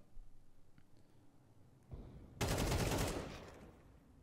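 Bursts of rapid gunfire in a Counter-Strike shootout during an IEM Dallas 2024 match erupt after faint clicks, building into a loud, dense fusillade that fades out.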